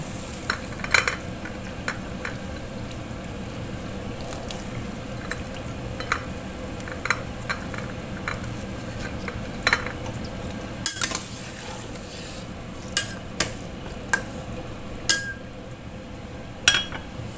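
Carrots and long beans are stirred into a pot of vegetable soup, a quiet steady simmering bed broken by scattered clinks and taps of a utensil against the pot, close and intermittent.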